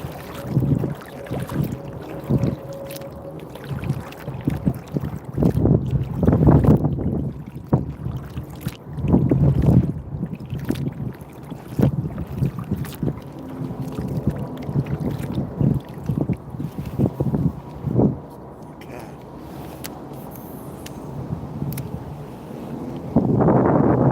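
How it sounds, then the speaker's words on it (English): Wind gusts and rushes steadily across a boat on open water while fishing for tuna in a video game, with low rumbling swells and occasional louder buffeting bursts throughout. "but this wind sucks. It's just going wherever it wants."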